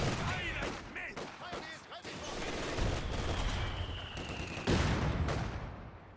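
Mortar blasts and machine gun bursts in Company of Heroes 2, a dense battle mix of repeated rapid firing and booming impacts under continuous game noise.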